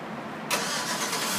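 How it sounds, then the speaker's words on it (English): A 2003-2007 Chevy Silverado engine cranks and catches after an Autopage remote start, a sudden broadband roar kicking in partway through and holding steady, close and loud, with no talk. "Push the remote start button once. Remote whistles, the engine cranks."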